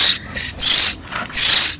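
Young hill myna chicks in a rearing setting give loud, shrill repeated calls, three or four sustained high squawks close by with short gaps between them.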